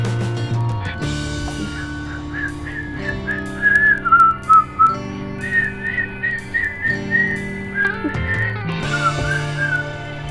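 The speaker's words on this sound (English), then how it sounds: "We have a clock that goes off, and like every time it goes off on the hour mark" Someone whistles a melody along with a clock's chiming tune, steady tones rising and falling, close and clear.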